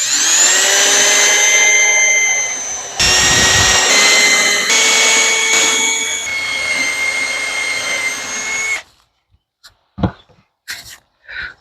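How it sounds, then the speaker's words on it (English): Power drill boring holes through a jig into a cabinet, a loud, close whine that runs for about nine seconds, its pitch shifting between bursts, then a few brief knocks and handling sounds. "drill our holes."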